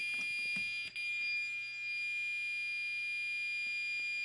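Fire alarm set to continuous tone, a steady piercing electronic drone holding without a break, faint and somewhat distant, with a few small knocks and clicks.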